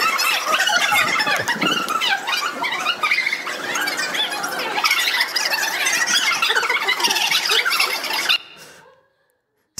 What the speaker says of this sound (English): Sound like a lot of sparrows